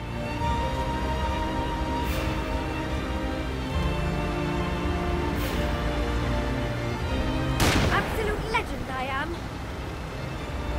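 Gunfire in The Lamplighters League on PC cracks out in a few sharp shots over a constant droning engine-like hum, with a louder burst near the end.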